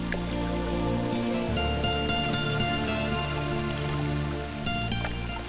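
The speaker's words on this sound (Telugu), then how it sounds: "వర్షం ఇలాగే పడుతుంటే ఎంత బాగుంటుందో కదా" Rain falling steadily in a steady wash of patter and scattered drops, partly masked by sustained musical tones playing over it.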